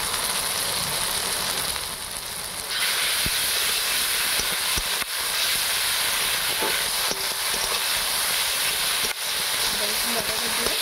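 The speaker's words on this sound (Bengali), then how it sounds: "আমি এবার এখানে আদা রসুন বাটাটা দিয়ে দেবো।" Ginger garlic paste fries with softened tomato and onion in a pan while a Bengali lote fish jhuri is cooked. A loud, steady sizzle hisses throughout, broken by scattered small pops and scraping clicks.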